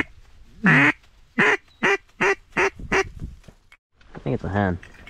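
A hen duck quacks repeatedly in short, evenly spaced calls, close and loud, in a flooded cornfield, with a brief pause before a final burst of quacks.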